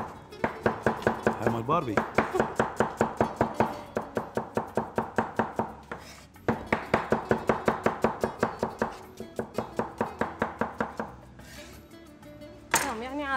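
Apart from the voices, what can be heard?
chopping onions with a knife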